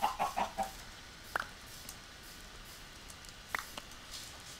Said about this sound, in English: This is great, there's so many chickens down here.